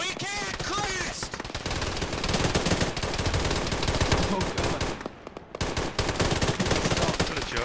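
Dense bursts of automatic gunfire and machine-gun fire from a military video game firefight, loud and nearly continuous with a brief lull partway through.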